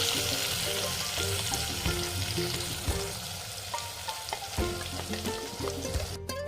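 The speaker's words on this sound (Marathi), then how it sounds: "मसाला छान भाजून घेऊयात" Ground masala with turmeric and bay leaf frying in oil in a pan, a loud, steady close sizzle with occasional stirring scrapes throughout.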